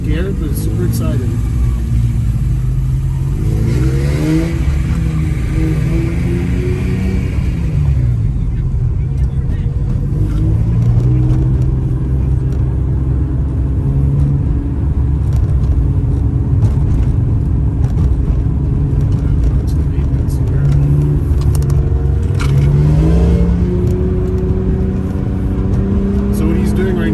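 A car engine roars continuously from inside the cabin on the Streets of Willow race track, rising and falling in pitch as it revs and shifts through corners, loud and constant throughout.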